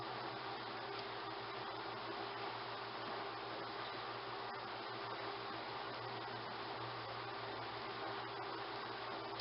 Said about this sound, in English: That noise that you might hear in the background is my dishwasher